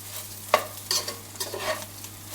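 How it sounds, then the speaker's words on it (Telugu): Rice frying in a pan with coriander for a chicken and crab biryani, stirred with a spatula that scrapes in a few sharp strokes over a soft, steady sizzle, close and alone. "బాగా చక్కగా కలుపుకొని బాగా ఫ్రై అవ్వాలి రైస్ ఫ్రై అయితే అంత టేస్ట్ ఉంటుంది"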